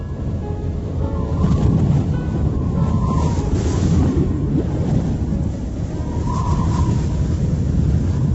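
Freezing winter wind blows steadily where penguins huddle together, a continuous low roaring rush with gusty swells, loud and unbroken throughout, with no voices.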